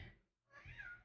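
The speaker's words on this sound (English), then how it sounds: "She's meowing at me over here." A cat in The Sims 4 gives a short, quiet meow, split into two soft cries around a brief gap, heard on its own.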